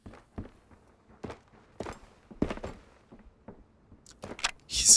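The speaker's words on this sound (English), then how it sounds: "I heard a footstep" Footsteps in a multiplayer survival video game, several scattered steps at moderate level, ending with a brief louder burst of noise.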